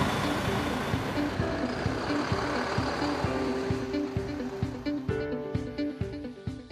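A CarPostal PostBus pulls away, its engine rumbling steadily up close with rhythmic pulsing and rising tones as it gathers speed.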